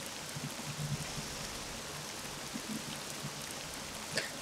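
Rain falling in the video game Rollercoaster Tycoon 3, a steady, soft hiss of rainfall with scattered faint drops and small clicks throughout.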